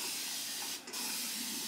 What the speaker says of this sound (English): this spray bottle was one of the best purchases of 2021